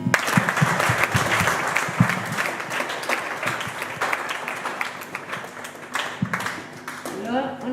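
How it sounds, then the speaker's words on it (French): Audience applause after thanks at a French-language presentation for a project called Double Coeur, steady dense clapping from a crowd throughout, with a voice starting to speak near the end. "on applaudit"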